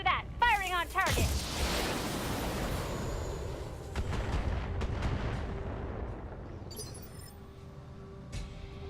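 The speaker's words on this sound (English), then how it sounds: "Firing on target." Heavy weapons fire from battle mechs in the video game Battletech, with a sharp opening blast followed by a long rumbling roar and scattered later impacts. A voice talks underneath.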